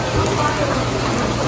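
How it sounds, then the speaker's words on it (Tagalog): Heavy rain pours down beside the Marikina River, a dense, constant hiss of drops hitting surfaces, loud and close with no letup. "Umuulan po ngayon, grabe, ang lakas din po."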